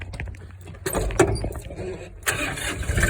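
Tractor engine cranking and catching, with sharp mechanical clatter followed by a rough idle building up close by as it starts to warm up.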